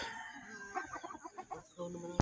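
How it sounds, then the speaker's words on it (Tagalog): Chickens at the Camp Morri campsite cluck faintly in a quick rhythmic series in the late morning, with a brief sharp knock near the end. "Mga manok sa Camp Mori."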